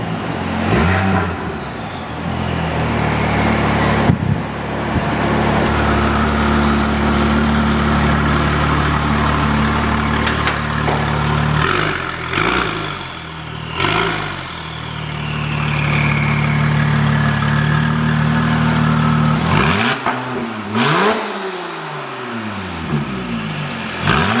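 A 2005 Porsche 911 Turbo S (996) with a Soul Performance exhaust idles with a deep, steady burble, broken by several sharp throttle blips that rise and fall, heard up close and without talk.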